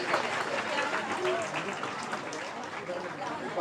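Audience applause at a Bihar BJP gathering, welcoming the honoured chairman: a steady, dense wash of clapping across the whole span, with some talk mixed in underneath.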